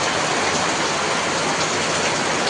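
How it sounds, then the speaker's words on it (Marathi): Sudden heavy monsoon rain pours down in a village, a dense, steady roar of drops hitting surfaces close by, continuous and loud with no voices over it. "आज आमच्याकडं पाऊस आला अचानक वाला पाऊस"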